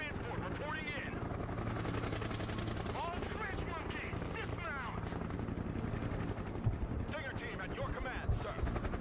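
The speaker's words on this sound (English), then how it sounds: "We're really whipping out a lot of helicopters" Several helicopters in the video game Broken Arrow keep up a steady thrumming drone while bursts of gunfire crackle over a dense, loud battlefield din.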